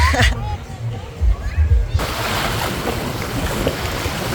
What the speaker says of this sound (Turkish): Bu arada akşamüstü saatleri olduğu için rüzgar çoğalmaya başladı.